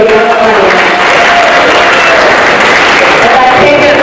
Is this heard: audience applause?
yes